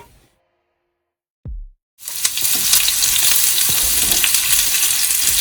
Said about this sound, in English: then I'm gonna add my onions to the pot